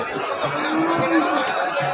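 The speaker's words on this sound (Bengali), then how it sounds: "এই গরুগুলো কই নিয়ে যাইতেছ" Cattle low and call at a busy livestock market in Dharmapasha, Bangladesh, their moos rising over steady crowd chatter and nearby voices.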